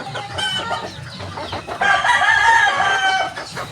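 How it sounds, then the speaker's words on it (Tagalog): A rooster crows loudly and close by, with excited clucking and other fowl noises around it, and no talking. "Ito yung nabili kong manok."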